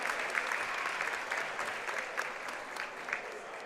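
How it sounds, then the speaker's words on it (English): A crowd applauds continuously for a Hall of Fame induction class at a high school basketball game in a gym, a steady dense wash of clapping with scattered louder claps throughout. "Please join us in congratulating our 2023 Hall of Fame class with a huge round of applause."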